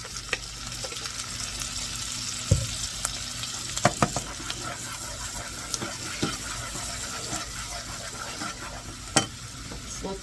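Minced garlic frying in a pan while preparing beef and creamed spinach, with a continuous bright sizzle under scattered clinks and scrapes of a utensil against the pan.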